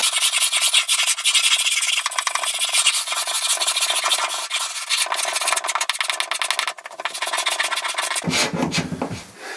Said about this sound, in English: I've used a scraper and sanding on the sides